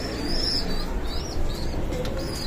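Pet pigeons and their chicks in a loft during hot weather give soft, repeated coos and thin calls close by, over a constant low background hum.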